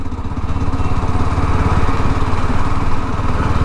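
A Yezdi Scrambler motorcycle's engine runs at low revs, a loud, close, steady thumping putter with no voices over it.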